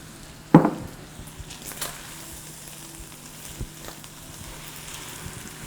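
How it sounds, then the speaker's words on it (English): Raw cut-up tomatoes go into a pan of browned meat for lasagna sauce: a sudden loud splashing sizzle that settles into a steady, quieter frying hiss with a few soft scrapes. "I'm going to jump right in with my cut up tomatoes, my raw tomatoes. Just throw that right in."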